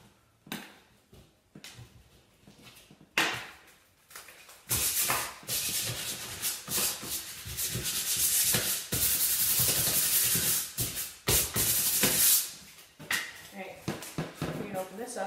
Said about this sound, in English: So what you want to do first is just, sand around it